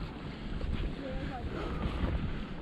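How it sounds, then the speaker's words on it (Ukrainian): Strong wind buffets the microphone in a steady, roaring rush with low rumble throughout, like gusts on open water, during a fishing outing. "Ого, сьогодні дує."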